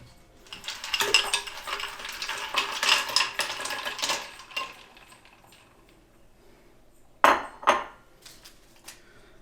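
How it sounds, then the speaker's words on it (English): Ice clattering and clinking into a container of Grinch punch, a dense rattling burst followed by two sharp, separate clinks. "So then now we got to put in the ice."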